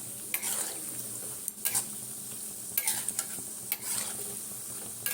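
Semolina nimki fry in hot oil, with a soft constant sizzle under several quick scraping stirs of a utensil against the pan.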